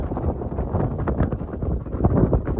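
Wind in the Tunisian desert rushes steadily and loudly across the microphone with no break, buffeting and rumbling throughout.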